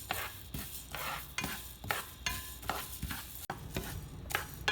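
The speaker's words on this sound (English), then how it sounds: "I'm adding 50 grams of coriander seeds and dry roast them on medium flame." Coriander seeds dry roasting in a hot pan over a medium flame, stirred in steady repeated sweeps that scrape and rustle close by, with a faint sizzle underneath and no voices.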